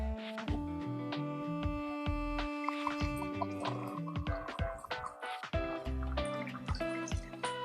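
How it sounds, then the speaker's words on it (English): Pouring-water sound effect laid over a video, a steady liquid trickle with dripping and filling tones alongside layered musical notes, moderately loud throughout. "you can see the pouring water sound effect like this one"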